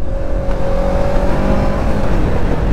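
A motorbike roars past on the road, its engine loud and close with a steady revving drone and a slight pitch shift as it goes by.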